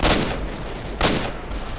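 An AK rifle fires in S.T.A.L.K.E.R.: Shadow of Chernobyl, two loud, sharp gunshot bursts about a second apart, each trailing into a rough echoing tail.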